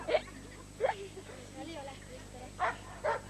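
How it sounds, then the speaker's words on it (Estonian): A search and rescue dog barks in short, sharp bursts, about four separate barks spread across a few seconds, fairly close and alone with no talk over them. "Kuulete, koer augub, kutsub peremees läheb juurde ja vaatab, kas koer leidis midagi."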